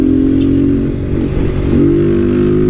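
Honda Titan 160 motorcycle fitted with an air filter, revving and accelerating up close with a loud steady engine drone that rises in pitch toward the end, with faint road clatter and no talk.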